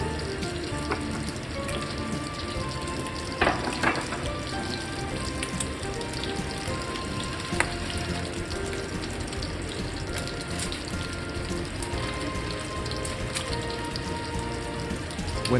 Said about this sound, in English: add the cut and washed green beans to the pot and boil them for 5 minutes